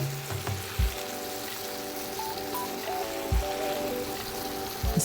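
Pearl barley pours into a simmering Irish lamb stew as a steady, soft granular patter over a low background hum, with a few dull thumps near the start and end.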